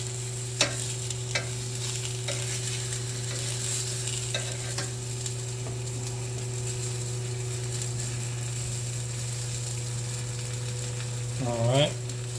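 Onions fry in a pan with a steady soft sizzle beneath a constant hum, broken by occasional stirring scrapes and a brief clatter near the end.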